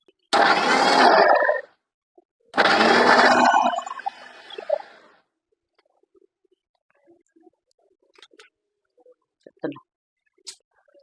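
A mixer grinder blends green chilli and tomato chutney in two short, loud bursts of about a second each, separated by a brief pause, then the kitchen falls nearly silent apart from faint clinks.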